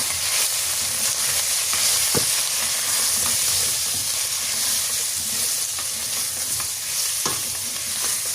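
Chicken stroganoff with paprika stirred in a hot pan, giving a steady loud sizzle and frying hiss with occasional scraping stir strokes, close up and without talking.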